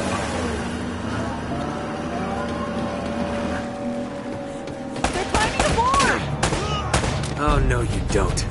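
Gunfire in the action game Uncharted: Drake's Fortune, with bursts of shots and impacts that grow sharper and louder in the second half over a busy layer of game sound and voices.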